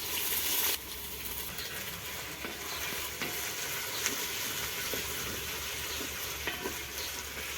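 Spices and onion frying in oil in a pan on a mud stove, a continuous crackling sizzle with occasional scraping stirs and clinks, fairly close and steady throughout.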